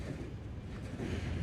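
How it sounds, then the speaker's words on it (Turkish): Slow-moving train in the video game Hello Neighbor, a steady, dense low rumble with continuous rolling noise and no distinct clicks, heard alone. "Ya arkadaşlar bu tren nasıl düşmüyor ya?"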